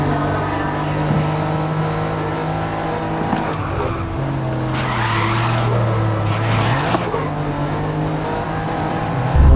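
A Nissan Skyline in a racing video game on a very bumpy track: a loud, steady engine drone whose pitch rises and dips, with skidding tire squeals throughout.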